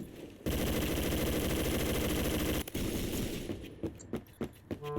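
Rapid sustained automatic gunfire from a Beowulf ECR rifle in a first-person shooter, a dense loud burst lasting a couple of seconds, then scattered single shots and impacts.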